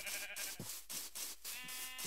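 Sheep in the Minecraft video game bleat in a quick series of short, quiet calls, several overlapping in a rapid rhythm against a faint, steady background.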